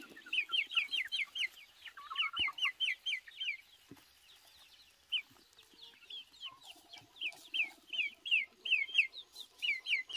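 Hungry baby chicks peep close by in repeated bursts of high, quick chirps, pausing briefly and then resuming, over a quiet background with occasional faint knocks.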